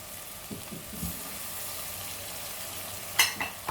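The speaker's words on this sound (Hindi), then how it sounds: "और अब इनको मिलाकर हम अच्छे से भून लेते हैं।" Cauliflower florets and potatoes with tomato masala are stirred and fried together in a pan, giving a soft, steady sizzle with a few scraping stirs and a brief sharper clatter near the end.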